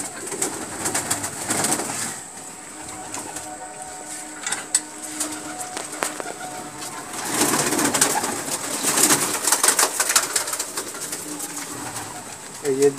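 A Ziria line Madrasi pigeon coos in soft, repeated rumbling calls, moderately close, amid steady background noise and faint clatter.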